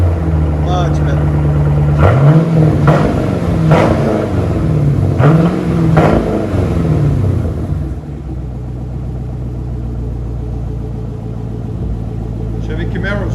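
Chevy Camaro SS with a muffler delete, its engine revving in a few throaty rising-and-falling pulls through the exhaust, then settling to a steady rumbling idle; a person talks over the revs.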